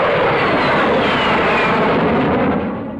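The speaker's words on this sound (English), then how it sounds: "screaming from the rooftops to the stratosphere, the jet is opening realms of height and speed hitherto unknown to British test pilots like John Cunningham and John Derry." A 1950s British jet airplane engine roars loud and close, a broad, steady blast of noise that holds for several seconds before easing slightly at the end.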